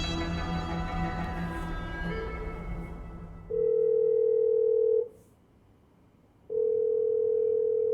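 Telephone ringback tone while a call is placed, two long steady beeps separated by a pause, following a stretch of background music that fades out.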